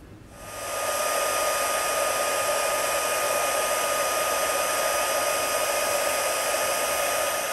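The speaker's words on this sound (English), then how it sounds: "I'm going to cover this with gold embossing powder and heat it" A heat tool blows hot air over gold embossing powder on a watercolored card, a loud, steady fan roar like a hair dryer that switches on and then runs unbroken.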